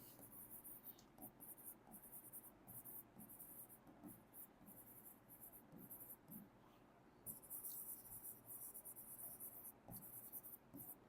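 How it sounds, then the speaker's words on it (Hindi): Marker strokes scratch across a board during a chemistry lecture, faint irregular squeaks and scrapes coming in bursts over a quiet room, with no clear speech. "यहां मैं लिख भी रहा हूं"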